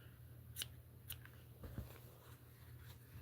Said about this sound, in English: And then I'll just cut these two tails off.